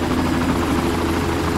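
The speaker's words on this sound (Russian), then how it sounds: "Сколько здесь вертолетов, а?" Helicopters in Far Cry make a loud, close, continuous rotor thrum with a heavy engine drone and no pause or voices.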